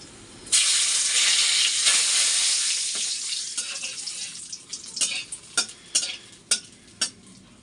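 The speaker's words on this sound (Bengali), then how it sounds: "চালটা খুব ভালোভাবে ভাজবো" Rice frying in hot oil with whole spices such as bay leaf for pulao: a loud, steady sizzling hiss begins abruptly, then thins as sharp spatula scrapes and clinks against the pot punctuate it rhythmically.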